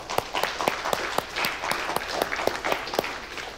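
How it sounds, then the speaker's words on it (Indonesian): Scattered hand claps from an audience at a gathering celebrating mothers, a steady patter of sharp individual claps rather than a thunderous ovation, with no voices over it. "Tepuk tangan dulu mama."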